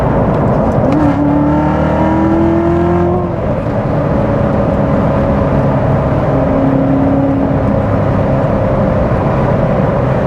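A manual Chevrolet Corvette C7 Z06 engine revs and climbs in pitch, rising steadily through a gear before settling into a sustained, throaty drone with no talking.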